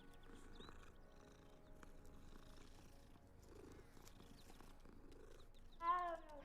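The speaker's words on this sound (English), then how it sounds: "Cats." Cats purring in the Hogwarts Legacy video game, a steady low rumbling purr running throughout, with a brief brighter cat call near the end.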